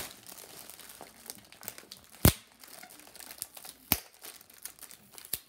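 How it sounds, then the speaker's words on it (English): Crinkling and crumpling of packaging being pulled open, with two sharp tearing bursts standing out above a steady rustle, close up. "You think Ryan makes it extra tough to open?"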